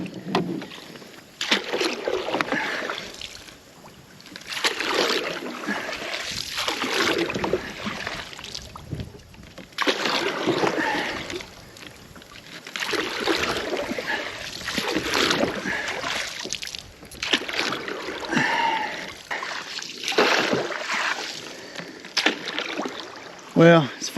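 A tiny bass boat being paddled with a fishing net in place of a paddle, repeated splashing strokes through water in uneven bursts with wind noise, close to the microphone.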